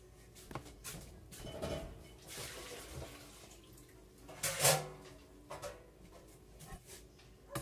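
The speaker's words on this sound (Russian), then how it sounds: "Сейчас сыворотку нужно слить." Whey poured off homemade halloumi cheese in a kitchen, a soft splashing trickle with clinks and knocks of containers, one louder burst of pouring midway, close and quiet with no talking.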